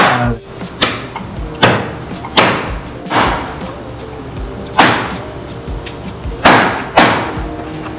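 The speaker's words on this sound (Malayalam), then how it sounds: "റിബ്സ് മുറിച്ച് ഫ്ലഷ് സെപ്പറേറ്റ് ആക്കുന്ന കാഴ്ചയാണ് നിങ്ങൾ കാണുന്നത്" Heavy cleaver blows chop through mutton ribs on a wooden block, separating the meat, about eight loud, sharp thuds in an uneven rhythm, close up with no talking.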